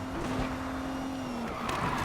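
In Need for Speed Payback, a car drifts hard through a corner with a long, steady tire squeal over a racing engine drone, followed by a rougher skid near the end, all close and continuous.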